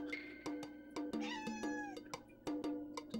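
Pet cat named Cloud meowing indoors, several drawn-out meows close to the microphone, set against steady background tones and a few sharp clicks.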